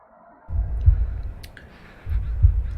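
Two deep, thudding heartbeat double-pulses from a Unity horror video game, loud and close over a soft low drone, with no talking.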